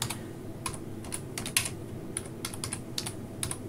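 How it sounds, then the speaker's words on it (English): Keyboard typing while setting up Kali Nethunter Pro apps on a Pinephone, a quick irregular run of crisp keystroke clicks heard close up with no talking. "if we press the up arrow on the keyboard"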